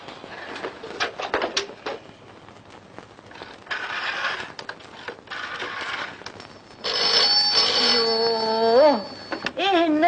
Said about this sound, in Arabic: في حد يضرب تليفون في الساعة دي؟